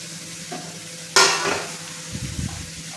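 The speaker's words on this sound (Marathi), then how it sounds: "मिरची पण थोडंसं तेलामध्ये परतलं की नाही, ही आता चिरलेली कोथिंबीर टाक." Green chillies and chopped coriander sizzle in hot oil in a pan. A loud stirring scrape is followed by a fading hiss and a few softer clinks of the spoon.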